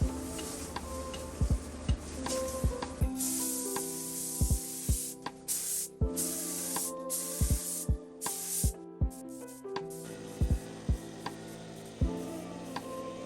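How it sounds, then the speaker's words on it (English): A spray gun lays primer onto a Duraflex Wizdom car bumper in quiet, intermittent bursts of hissing spray. Sharp clicks and ticks run between the bursts, and the gun sputters as it starts to clog. "my spray gun decided to clog up on me, but I managed to cover the whole bumper with primer"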